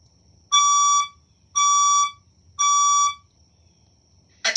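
Science room fire alarm being tested in a school, sounding three loud, steady electronic horn blasts about a second each with even pauses, followed by a brief harsh burst at the end.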